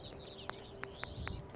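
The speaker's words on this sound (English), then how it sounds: "Oh, listen to those friendly birds." Friendly birds chirping in a Fallout 4 Sim Settlements 2 settlement, a few short high tweets spaced irregularly over quiet ambient background.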